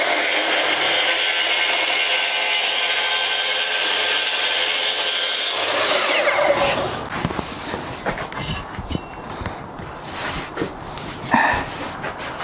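A power saw cuts through a sheet for a 2.3 m river table, a loud continuous whining rasp for about six seconds before it stops, followed by scattered rubbing, scraping and knocks as the cut piece is handled.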